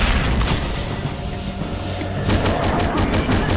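Gunfire in the video game Hedon, a loud run of booming shots that turns into rapid, denser bursts in the second half.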